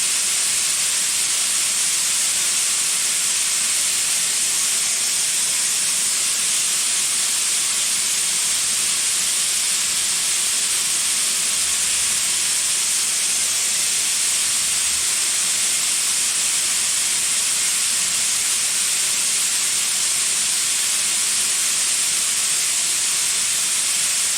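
A powerful, unbroken hissing rush of carbon dioxide escaping at full flow from a 300 cubic foot tank with the valve wide open, steady and loud for the whole stretch with no pauses.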